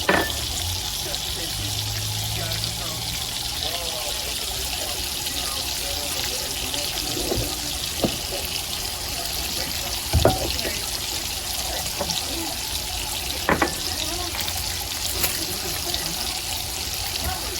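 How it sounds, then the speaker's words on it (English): Garlic sautéing in a hot pan while a braided pork tenderloin dinner is prepared: a steady, close sizzle runs throughout, with a few brief clinks and knocks. "drop our garlic all in here. And let that just saute a little bit"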